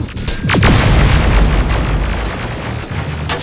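Loud explosions and rumbling gunfire from the Terminator Resistance battle fill the scene, with a heavy boom early on and then sustained blasts and crackling debris. No one speaks.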